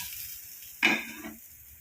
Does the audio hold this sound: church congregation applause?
no